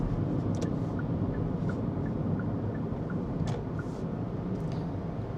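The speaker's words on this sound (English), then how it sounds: "let me actually try to put my foot down. As you can see, it becomes very, very loud and it feels like it's struggling" A Hyundai Venue engine strains under hard acceleration, a loud, steady droning roar heard from inside the car. Road noise sits beneath it and a faint ticking repeats throughout.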